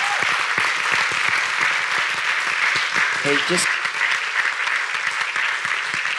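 A dense, sustained burst of applause from an audience welcoming a guest speaker at a bilingual French-English worship gathering, filling the room steadily from start to finish with a voice briefly heard over it.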